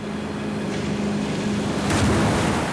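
A cartoon boat pushes through high waves toward a reef, with steady rushing water and engine noise filling the scene and a swell of surf near the end.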